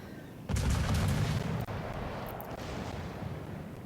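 Warship naval guns fire shells in a video game, opening with a loud, deep booming blast that rolls into a sustained low rumble, with a second sharp report partway through and heavy continuous roar after.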